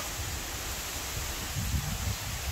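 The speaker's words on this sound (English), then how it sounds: "You hear the wind, guys?" Wind gusts through tree leaves on a very windy day in a Jamaican country backyard, a steady low rushing roar with rustling that swells slightly toward the end, close to the microphone.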